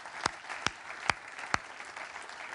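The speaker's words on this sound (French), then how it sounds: "On peut applaudir vos invités." Audience at a French science event about the Cassini-Huygens Grand Finale applauding the guests; sparse, faint claps with four distinct sharp hits over a soft background wash, fairly distant.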